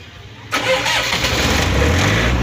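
A generator engine that has a no-output-power fault cranks and catches abruptly, then settles into a loud, steady mid-pitched running drone close by.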